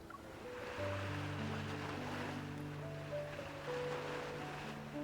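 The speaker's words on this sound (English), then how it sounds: "Why do I hear waves in the background?" Ocean waves washing in the background of the video game Love and Deepspace, a soft continuous surf wash under sustained tonal music notes, fairly faint.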